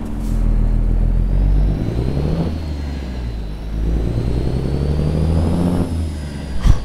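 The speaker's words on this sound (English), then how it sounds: "The engine really sings after" A heavy truck engine in American Truck Simulator, hauling a 60-ton load, holds a loud, continuous mid-range drone that rises and falls as it revs and accelerates, with no voices over it.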